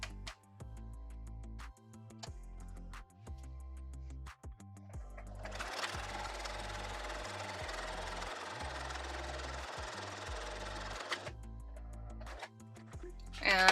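A sewing machine runs at a steady whir while stitching along the edge of fabric under the presser foot. It starts partway through and stops before the end, over a quiet background with a low repeating hum and clicks.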